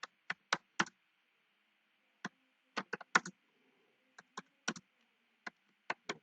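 Typing on a computer keyboard while entering a git clone command in a cloud development environment: sharp, close keystrokes, singly and in short bursts, separated by quiet gaps. No one talks.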